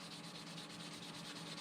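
Fine sandpaper rubs lightly and steadily over the plastic hull of a 1:350 Polar Lights USS Enterprise refit model kit, a close, continuous soft scratching with a gentle back-and-forth pulse.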